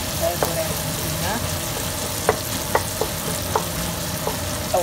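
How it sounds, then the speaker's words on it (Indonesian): Spice paste of tomato, shallot, garlic and chili frying in a pan for tempe and anchovy sambal, a steady close sizzle with a few sharp stirring clicks and scrapes over the hiss. "Ini saya bikin bumbunya dulu, saya goreng bumbunya."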